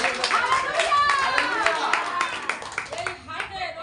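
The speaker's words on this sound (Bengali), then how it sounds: "জোরদার তালি করো।" A church congregation clapping loudly in brisk, rapid rhythm, many hands close and continuous, with a voice calling out over the claps.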